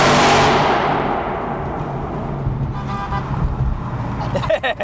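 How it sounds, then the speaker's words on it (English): Roaring engine and exhaust of a 1000 BHP Ford Mustang Dark Horse with long tube headers and a 3-inch catback exhaust, a loud broadband rush that eases slightly and then holds steady. "the car sounds absolutely epic"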